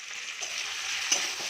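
Cabbage cooks in a pan with tomatoes and green chilies while a spoon stirs through it, producing a continuous gentle sizzle and a few scraping knocks against the pan, with no voices.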